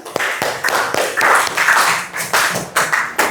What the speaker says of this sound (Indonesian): beri tepuk tangan untuk Syakira